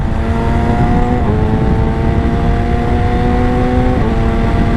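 A Yamaha R6 sport motorcycle with traction control switched off holds a loud, close, continuous engine roar, its pitch dipping and climbing slightly as the revs shift.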